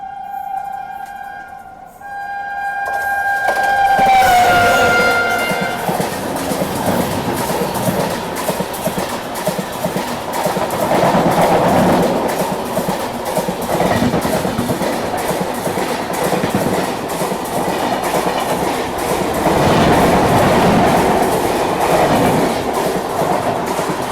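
A passenger train runs on rails as the Rajdhani Express overtakes, with a brief tonal horn-like note at the start, then a loud, continuous close rumble and rhythmic wheel clatter that swells and eases.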